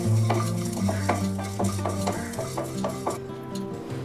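Pepper, cumin and fenugreek seeds roasting in a dry pan, stirred in a quick run of about a dozen rhythmic scrapes and clinks over a low sizzle, close and without talk.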